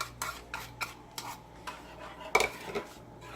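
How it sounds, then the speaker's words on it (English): Spoon stirring a rich, creamy sauce in a pan over low heat, a run of soft scraping strokes repeating at a steady rhythm, with one louder clatter against the pan near the end. "And I'm stirring"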